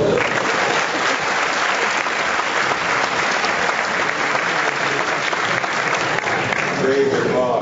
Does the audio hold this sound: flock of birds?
no